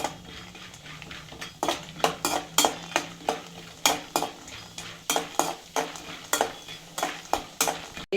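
Peanuts fry in hot oil for a mandakki oggarane seasoning, a steady sizzle under rapid, rhythmic scrapes and clinks of a spoon stirring against the pan, close and fairly loud, with no talking.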